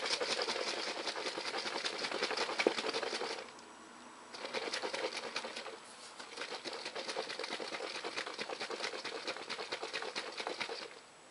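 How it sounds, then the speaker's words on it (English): Vigorous rhythmic rattling and sloshing from a jar shaken hard, in two long bursts separated by brief pauses. "So I'm going to give this a super good shake."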